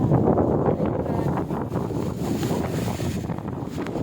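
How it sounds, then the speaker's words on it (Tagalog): Strong, steady wind roars and buffets the microphone throughout, a dense rumbling gust with no pauses, close and loud. "talakas guys ng hangin"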